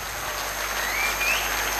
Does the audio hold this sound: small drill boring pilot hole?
no